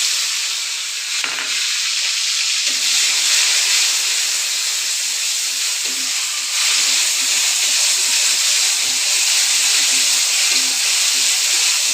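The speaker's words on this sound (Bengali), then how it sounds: "মশলাটা সুন্দর করে তেলের মধ্যে দিয়ে একটু ভেজে নেব, কোনো কাঁচা গন্ধ থাকবে না।" Ground spice paste, added after bay leaves and garam masala, fries in hot oil in a wok with a loud, continuous hiss and sizzle, joined now and then by faint stirring scrapes.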